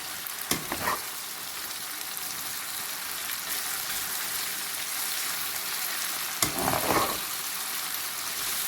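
Chilli pepper chicken manchurian sizzles and fries steadily in a pan over a high flame, a loud continuous hiss broken by two sharp clanks of a spatula stirring the mix.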